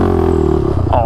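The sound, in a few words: adaptive ATV engine revving with twist throttle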